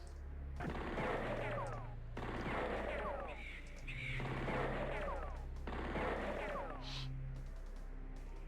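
Automatic weapons fire in the turn-based strategy game Spellcross comes in four long, loud bursts of rapid rattling shots separated by short gaps, with a steady low drone underneath.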